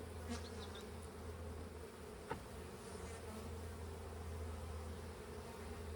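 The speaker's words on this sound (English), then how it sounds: "And I don't know these bees. They stung me pretty bad when I was getting the hive" Honeybees swarm and buzz around an opened hive during a colony split, a steady low drone running throughout with a few brief nearby ticks and clicks.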